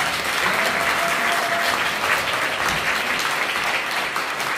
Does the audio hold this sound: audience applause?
yes